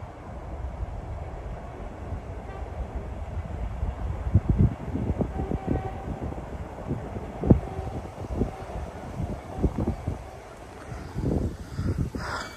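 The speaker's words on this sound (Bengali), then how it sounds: "দেখুন ব্রিজ উপর দিয়ে ট্রেন যাচ্ছে।" A train crosses a bridge at a distance by a lake in Russia, rhythmic clacks and thumps over wind noise, steady and low for several seconds.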